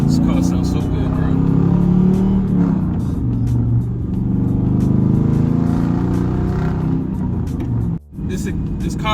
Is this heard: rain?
no